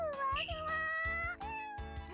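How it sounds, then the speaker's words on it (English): A video game cat gives a short, tonal meow over game music with a steady beat, clear and close. "Cat."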